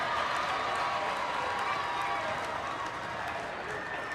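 Home crowd at a girls high school basketball playoff game between Los Fresnos and Edinburg Vela cheers in a steady, loud roar filling the gym, with sneaker and court noise mixed in.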